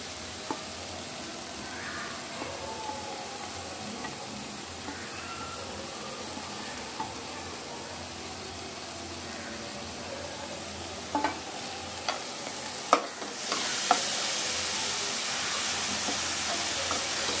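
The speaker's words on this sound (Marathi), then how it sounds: "जरा जवळा ह्याच्यात परतायचा चांगला असा" Dried shrimp (jawala) stir-fried with spices in a pan for a spicy sukka jawala, giving a steady close sizzle and hiss with occasional spatula scrapes and taps, the frying growing louder near the end.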